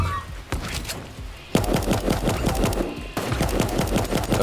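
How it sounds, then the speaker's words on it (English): Grenade blasts and gunfire from the video game Super Animal Royale: a sharp burst, then two long runs of rapid repeated shots, each starting with a heavy thump, loud and close. "He's throwing a bunch of grenades at me."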